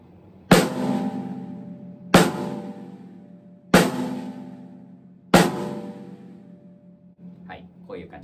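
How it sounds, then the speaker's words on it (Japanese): Four evenly spaced snare drum hits struck with a drumstick, each sharp crack followed by a buzzing decay, close and loud, with a brief voice speaking at the very end. "スネアドラムという楽器の音です。"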